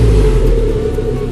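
A stock Suzuki Jimny engine rumbles steadily up close, a low, throaty idle-to-rev drone holding fairly constant with no talk over it.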